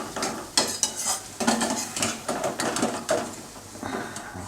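Sev noodles frying in hot oil are turned over with a metal utensil, giving several sharp scrapes and clinks against the pan over a steady bubbling sizzle, close and moderately loud.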